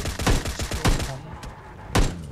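Several sharp gunshot bursts crack out in quick clusters, then a pause and one more loud shot, with sound effects from the game PUBG Mobile Lite and a faint voice underneath.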